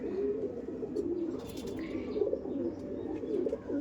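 Soft, continuous low cooing from an Andhra pigeon, a male, repeating steadily throughout with faint chirps above it, close and with no talk.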